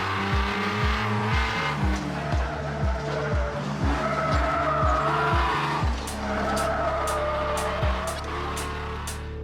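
A Jeep Cherokee XJ spins donuts, its engine droning loud and close while the tires skid and squeal in a long continuous smear, with rhythmic low pulses as the revs rise and fall.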